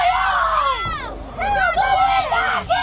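A pro wrestling crowd in Australia roars throughout a match, with loud overlapping shouts, screams and high-pitched yells rising and falling in waves, close and dense with no clear pauses.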